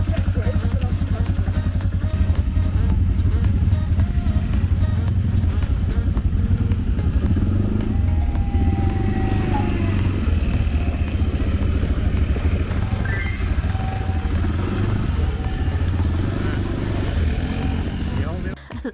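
A quad bike engine rumbles steadily and close throughout a ride near Franz Josef glacier in New Zealand, a low continuous drone with some clatter and faint voices underneath.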